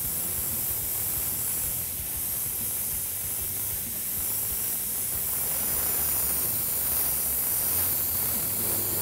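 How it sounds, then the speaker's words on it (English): An airbrush hisses continuously at close range, a steady fine spray with slight variations in intensity and no talking. "Lightly spray and kind of a fog pattern around your edges."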